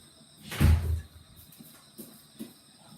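A door closes once with a soft thud early on, followed by a few faint knocks and rustles in a quiet room.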